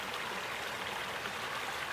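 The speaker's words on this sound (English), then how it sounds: "you can let it peacefully just filter out water" Water trickling through a portable water filter, a steady soft rushing flow like a small stream, continuous and close with no pauses or talk.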